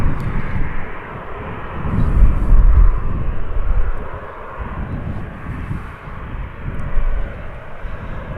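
A Ryanair airliner arriving at Manchester Airport gives a steady, fairly loud jet engine roar that swells briefly, then holds as a broad continuous rumble, with no talk.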